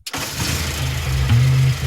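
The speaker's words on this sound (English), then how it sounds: "let's start her up" A classic car engine, freshly fitted with new points, cap and rotor, cranks briefly and then catches, settling into a loud, steady idle with a small rise in revs near the end, close by and with no talk.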